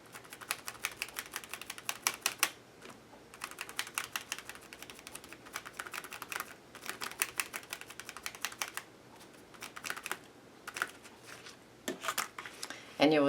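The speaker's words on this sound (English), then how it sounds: "bounce your makeup sponge on your stencil on your card" Quick soft pats of a makeup sponge bouncing acrylic paint through a stencil onto a card, a rapid crisp tapping in bursts with short pauses, close up and unaccompanied by talk.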